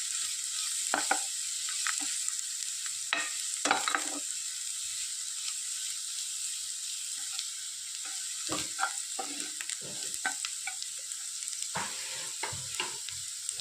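Green chillies and chilli powder fry in a pan with a steady sizzling hiss, while a spoon stirs and scrapes through them in irregular bursts of clatter, close up and with no talking.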